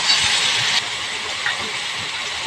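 Ground cumin, ginger and garlic paste frying over onions in a pan, giving a loud, steady hissing sizzle that is strongest at the start, then settles into a continuous softer fry.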